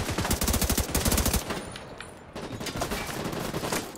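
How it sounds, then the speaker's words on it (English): Rapid automatic gunfire rattles in The Division 2, a loud, close burst of fast repeating shots for over a second, then a brief lull before more distant, scattered firing continues. "Who's shooting me from over here?"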